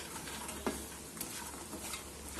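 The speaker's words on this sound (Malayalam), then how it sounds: "അപ്പോൾ ഇത് നല്ലതുപോലെ ഒന്ന് മിക്സാക്കി എടുക്കണം." Fried soya chunks being stirred into masala in a pan, a soft continuous scraping and gentle sizzle with a few light clicks of the spoon, quiet and close with no talking.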